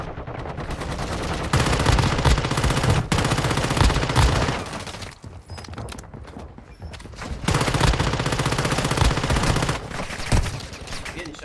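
Rapid automatic gunfire bursts in a Warzone Mobile match, loud and close, coming in long sustained volleys with short gaps and a brief lull midway.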